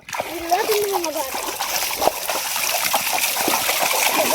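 Children swim and splash in water close by, making continuous loud splashing and sloshing while kids talk and call out over it.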